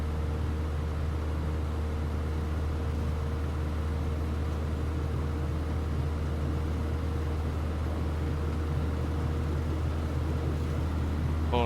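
A Piper PA-38 Tomahawk's single engine runs at takeoff power in Microsoft Flight Simulator, a steady, droning hum with a constant low tone that stays even and moderately loud throughout, with no speech.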